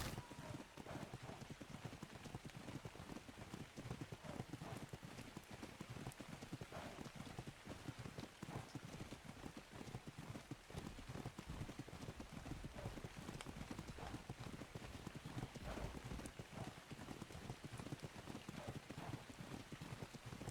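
Steady clip-clop of horse hooves trotting throughout in the video game Ark: Survival Evolved, with a dense rain-like patter underneath and a faint whinny.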